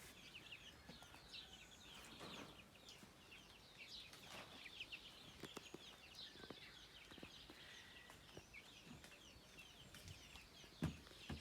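Chicks and chickens squabbling and clucking in a village yard, with repeated short clucks and chirps scattered over a steady background and a sharper peck or call near the end.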